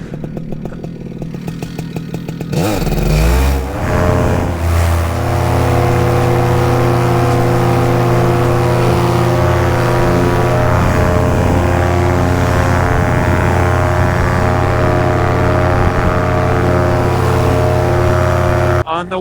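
A small airplane's engine roars up from quiet to a loud, steady propeller drone during takeoff, holding a constant strong hum with slight wavering pitch throughout.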